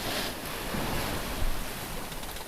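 Choppy, square ocean waves wash and slap against a sailboat crossing the Gulf Stream under steady wind noise, a continuous close rushing with one louder surge midway.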